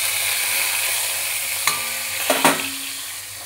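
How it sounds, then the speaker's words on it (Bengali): Cauliflower and potato dropping into hot oil in a kadai give a steady broadband sizzle, broken by a few sharp clatters and scrapes as the vegetables land and get stirred, with no voices. "এবার আমি ফুলকপি আলু দিয়ে দিচ্ছি কড়াইতে।"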